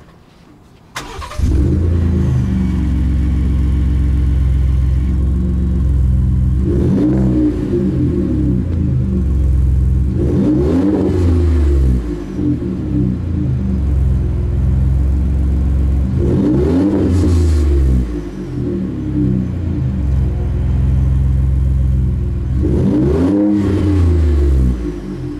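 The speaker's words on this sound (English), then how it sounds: "Let's get an exhaust note so we can see how that EcoBoost exhaust" A Ford F-150 EcoBoost truck engine idles with a deep rumble, then revs hard four times in evenly spaced bursts, each throaty exhaust roar rising and falling back to idle.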